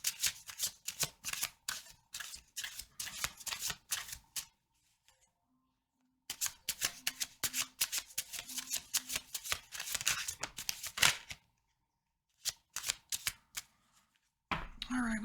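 A deck of oracle cards being shuffled by hand, bursts of crisp riffling and flicking in repeated bouts separated by short pauses, close and fairly quiet, with a low tone briefly in the background.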